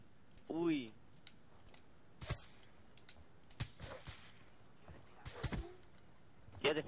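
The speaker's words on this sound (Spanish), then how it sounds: "Que eso han sido dos tiros, pero me has dado con el primero" Several sharp gunshots from a Black Ops 2 one-on-one match, scattered single bursts over a few seconds with excited talk between them.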